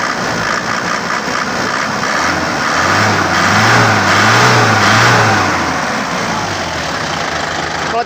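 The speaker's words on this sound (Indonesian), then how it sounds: "Kalau getar-getar kecil sederhana ini biasanya mobil diesel kayak gitu." A diesel car engine idles steadily with a low, even rumble and small vibrations, a slight rise in revving midway, close and continuous.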